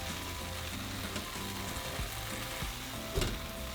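Steady sizzling and crackling of ingredients for a seafood-and-meat molcajete roasting together in a pan, continuous and close, with a few soft stirring clanks near the end.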